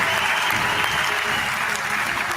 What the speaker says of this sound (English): A round of applause for the tennis superstar